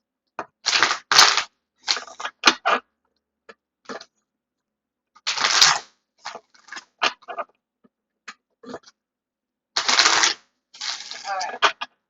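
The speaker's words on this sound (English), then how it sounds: "3 more shuffles." Tarot cards shuffled by hand in a reading, giving bursts of crisp riffling and fluttering, three main shuffles with scattered taps and card slaps between, close and clear with no talk.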